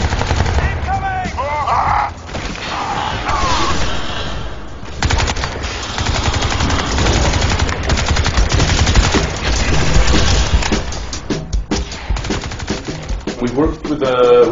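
Gunfire from the video game Crysis 2, with loud machine-gun bursts and shots rattling almost continuously. Shouted voices and explosions are mixed in.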